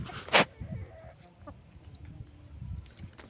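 Desi chickens cluck faintly and intermittently in a rural setting, with a brief sharp noise near the start and low background rumble throughout.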